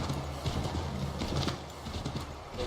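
Horse hooves clip-clop at a steady trotting rhythm in Assassin's Creed III Remastered, a close, continuous run of hollow knocks over a soft ambient game background.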